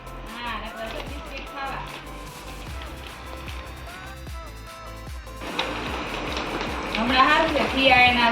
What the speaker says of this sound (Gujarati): વરસાદ આવે છે તે